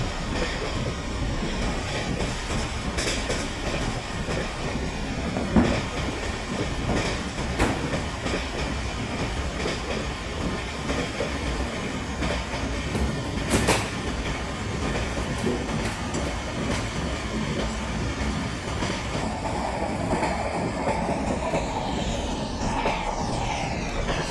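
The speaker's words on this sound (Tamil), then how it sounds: "ஸோ இன்னொரு ட்ரெயின் ஆப்போசிட் ட்ராக்ல வந்துட்டுருக்கு" The 19011 Gujarat Express running on the rails in Microsoft Train Simulator on the Western route, a continuous close rumble of wheels with recurring clickety-clack rail joints and occasional sharper clanks.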